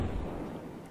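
The Master Fire spell attack in Epic Battle Fantasy 4 is a brief, loud, roaring blast of dense rumbling noise that fades slightly toward the end.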